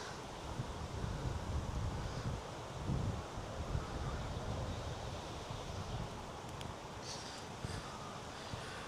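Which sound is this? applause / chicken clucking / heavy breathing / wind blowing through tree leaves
wind blowing through tree leaves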